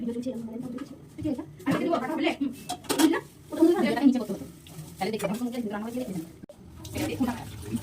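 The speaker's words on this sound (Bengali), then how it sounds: "এখানে চিকেনটা ধোয়া হচ্ছে" Tap water runs over raw chicken being washed in a kitchen sink, with a steady splashing stream under nearby talking and occasional clinks of dishes.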